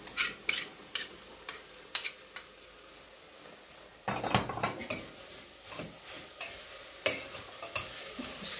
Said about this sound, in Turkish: Şimdi bir yemek kaşığı da salçamızı koyuyorum.